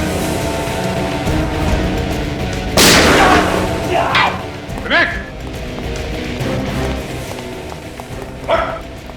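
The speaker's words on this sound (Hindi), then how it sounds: "पैर में गोली लगी, गोली ऊपर लगती तो क्या होता तेरा?" A single sharp gunshot cracks out loudly in a tense crime drama scene, followed by scuffling and intermittent tense voices in the background.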